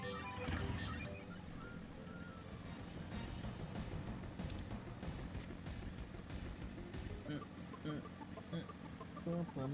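A chicken in the Final Fantasy XIV video game clucks and squawks in repeated bursts, fairly loud and close, over game music and effects, with someone talking over it.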